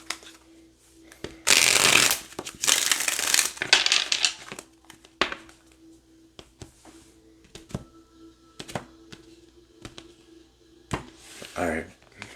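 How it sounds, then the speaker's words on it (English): A tarot deck shuffled during a card reading, with two loud riffling bursts followed by softer taps and card handling, a voice speaking intermittently nearby. "one more shuffle"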